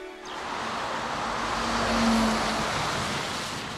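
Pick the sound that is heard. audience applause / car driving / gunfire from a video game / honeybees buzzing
car driving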